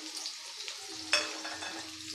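Chopped onions, two large ones, hit a hot pan already holding cinnamon sticks, green cardamom and cloves, bursting into a sudden sizzle partway through that settles into a steady, moderate frying hiss.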